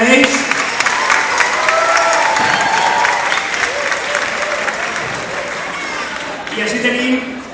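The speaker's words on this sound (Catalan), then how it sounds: "Un fort aplaudiment per a ells." An audience at a youth vocational music festival applauds a parish choir group, full and steady clapping with some cheering, fading slightly toward the end as a voice begins to speak.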